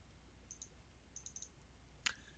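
Faint, sharp computer mouse clicks alone in a quiet room: a pair near half a second, a quick cluster of three or four, then one louder click near the end.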